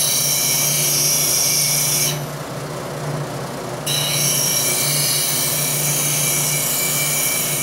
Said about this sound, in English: I'm going to leave the grinder set at about 35 degrees, but we're going to make a small skew.